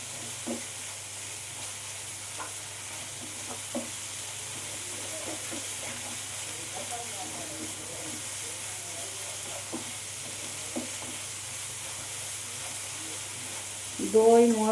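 Masala sizzles softly in oil for a paneer curry, a low steady frying hiss with scattered stirring taps and scrapes, and a louder clatter near the end.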